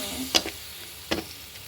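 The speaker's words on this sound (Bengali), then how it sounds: "পেঁয়াজ আর ঝাল দিয়ে আর চিংড়ি মাছ আর নারকেল দিয়ে ভাজা ভাজা করতেছি" Prawns frying with onion, chilli and coconut in a pan, a faint background sizzle broken by two sharp spatula scrapes about a second apart.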